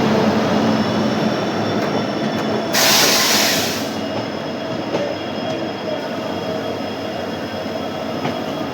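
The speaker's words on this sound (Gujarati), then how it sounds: "સુપર અરાઇવલ લઈ લીધું છે ડીઝલ લોકોમોટિવે પોરબંદર એક્સપ્રેસ સાથે" A WDG4D diesel locomotive pulls the Porbandar Express into Bhaktinagar station, a loud continuous rumble of rolling wagons and wheels with a brief hiss burst partway through, no voices.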